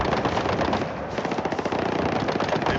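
A machine gun nest fires in a Battlefield 6 battle, a loud close rapid burst of continuous automatic fire with no pauses.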